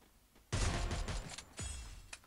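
Gunfire in the Free Fire video game comes as a dense fusillade of rapid shots, loud and continuous for under two seconds with a brief second burst, with no talk over it.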